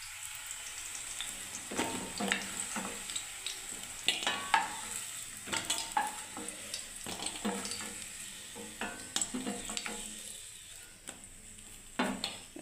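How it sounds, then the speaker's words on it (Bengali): Raw banana and eggplant slices frying in hot oil with an ongoing sizzle, punctuated by repeated scraping and stirring clatters of a utensil in the pan, close and moderately loud, no one speaking. "দেখুন বন্ধুরা কাঁচা কলা আর বেগুনটা আমার ভাজা হয়েই গেল প্রায়"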